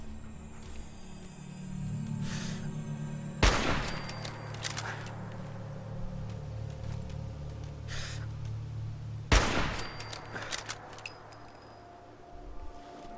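Two sharp, loud gunshots from a gun in Fallout 4 ring out several seconds apart over a steady humming game background, each with a brief tail.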